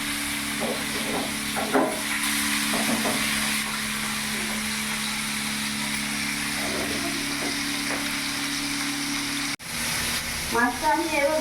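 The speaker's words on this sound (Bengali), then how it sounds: "মাছটা আমি এভাবে লাল লাল করে ভেজে নেবো।" Pomfret fish frying in oil in a pan, a continuous crackling sizzle with occasional louder spatters and pops, a brief dropout near the end followed by renewed sharp crackles.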